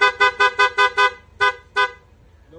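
A PIA horn fitted to a Yamaha NMAX scooter sounds loud and close: six quick toots in a fast, even rhythm, then two more spaced farther apart, with no talking.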